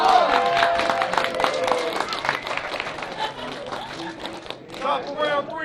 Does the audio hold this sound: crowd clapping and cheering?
yes